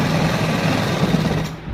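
A sewing machine stitches a salwar with a fast, steady mechanical whir and rattle, close and continuous, fading slightly at the end.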